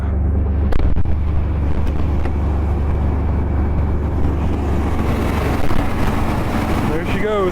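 An old car engine idles after a cold start following months unused, a steady loud low rumble running throughout with wind buffeting the microphone and a voice talking over it.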